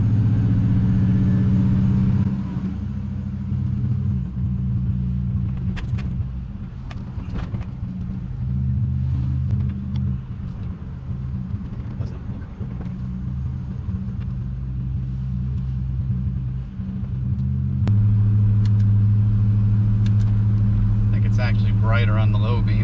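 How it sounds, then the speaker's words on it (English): A 2001 Chevrolet Silverado drives through a neighborhood, heard from inside the cab as a steady low engine and road rumble that swells near the start and end, with someone talking over it. "just gonna take a little ride through the neighborhood"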